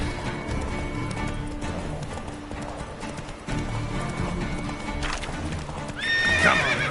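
Geralt's horse Roach gallops in Witcher 3, a steady rapid clip-clop of hooves under game ambience, ending in a loud whinny near the end.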